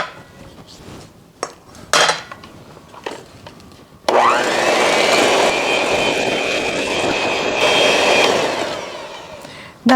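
An electric mixer whirs loudly and steadily for about six seconds, beating ginger cookie dough with molasses, after a few clinks and short knocks of utensils in the bowl.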